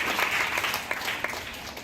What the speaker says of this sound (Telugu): గట్టికి చప్పట్లు కొట్టండి